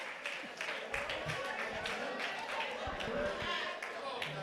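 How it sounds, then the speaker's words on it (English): An audience claps at a hearing in Memphis, a moderate burst of applause mixed with crowd noise and scattered voices, fairly even in level throughout. "Give Dr. Washington a round of applause"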